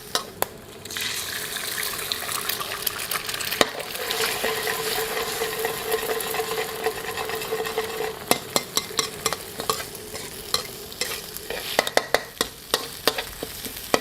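Nasi goreng fried rice with stink beans sizzling and being stirred in a hot wok, a steady loud frying hiss broken by scraping clicks of the spatula, no voices.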